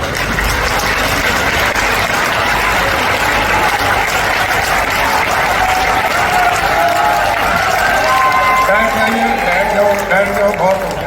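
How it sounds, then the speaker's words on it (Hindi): A large crowd at a political rally in Sirsa, Haryana, applauding the Union Home Minister, dense sustained clapping with some shouts, while voices rise through the din toward the end. "खड़े होकर तालियां बजा के गृह मंत्री जी का स्वागत करें।"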